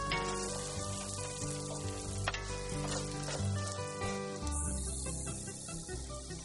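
Brussels sprouts sizzle steadily in a hot pan until golden brown, a dense, continuous close frying hiss with faint stirring scrapes and no voices.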